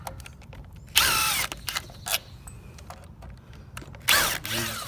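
A power drill unscrews screws from the hinge of a Marvin Integrity window, with short close whirring bursts between quieter handling clicks and rattles.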